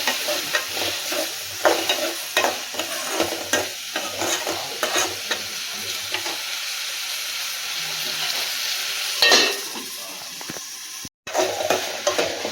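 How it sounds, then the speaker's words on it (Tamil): Chopped tomatoes sautéing in a pan for eggplant masala, a steady close sizzle with frequent scraping stirs of a spatula, continuing without voices apart from one brief dropout near the end. "மூணு தக்காளி கட் பண்ணி வச்சுருக்கு அதையும் இதில் சேர்த்துக்கலாம் சேர்த்துட்டு நல்லா வதங்க விடணும்"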